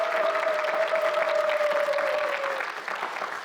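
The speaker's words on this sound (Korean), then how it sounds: "여러분 다시 한번 큰 박수 좀 부탁드리겠습니다" Studio audience applauding on a Korean government TV talk show, a steady dense wash of clapping heard alone at full strength for about two and a half seconds before easing off slightly.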